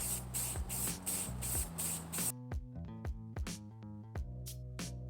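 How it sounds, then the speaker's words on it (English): Aerosol can of chalkboard paint sprayed onto a wooden sign, a run of short close hissing bursts in quick succession that give way to a clattering rattle and knocks, no talk. "so let's spray it down"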